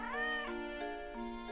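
A single drawn-out cat meow from the Professor Layton and the Curious Village video game, clear and tonal, rising then falling in pitch over about a second and a half.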